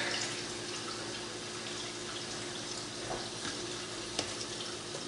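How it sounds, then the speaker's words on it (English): Hot tap water runs steadily from a faucet, a continuous close hiss and splash that holds at an even level throughout, with one brief clink near the end. "I just go hot water from the tap. I'll let that run and warm up."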